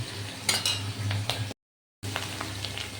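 Chopped onions hit a pan of small fried potato pieces. A low sizzle runs under a few utensil clinks and scrapes, with a brief gap of silence midway.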